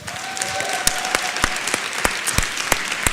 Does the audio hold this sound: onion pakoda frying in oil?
no